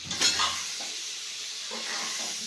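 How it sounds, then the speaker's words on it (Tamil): Ground chili and coriander powder sizzle in a pan for a drumstick, brinjal and raw mango sambar, opening with a quick scrape of stirring before settling into a soft, steady hiss. "சிம்மலே வச்சு கிண்டுங்க இல்லாட்டி கருகிரும்"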